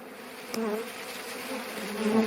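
A honeybee swarm buzzes at an apiary in late summer as the bees settle into a hive box. The dense, steady droning hum is close and loud, with no talk.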